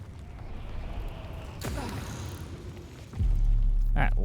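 Homing missile explosions in the sci-fi shooter game Returnal: a sharp burst, then a deep rumbling boom swelling loudly near the end, over quieter game ambience.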